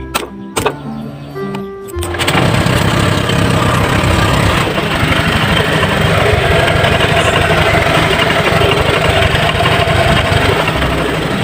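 After a few clicks and a brief crank, a Honda Click 125i scooter engine fires up and settles into a steady, loud, close idle.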